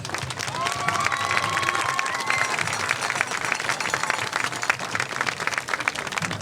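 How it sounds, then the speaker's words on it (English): Steady, loud applause from a large crowd at a high school homecoming football game, with cheering and a brief whistle early on, continuing without pause. "Can we get one more round of applause?"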